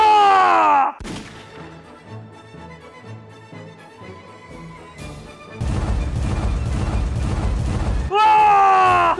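A homemade propane gas pop gun fires with a loud booming whoosh of flame, a sustained roaring burst near the middle, bracketed by excited shouting voices at the start and end.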